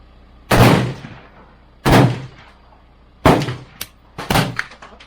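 Four sharp, loud gunshots from a KelTec Sub2000 carbine fitted with a recoil buffer ring out at a range, spaced a second or so apart with short echoing decays, the last two followed by smaller clanks, no talking.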